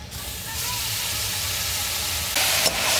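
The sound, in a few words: garlic paste frying in oil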